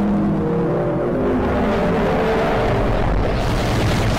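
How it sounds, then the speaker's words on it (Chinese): Booming, roaring laser cannon blasts from a Minecraft-style Skibidi Toilet battle animation, loud and continuous with a dense rumbling low end and no talk over them. "泰坦音响人发出怒吼，用2把激光炮打出了过年的气氛"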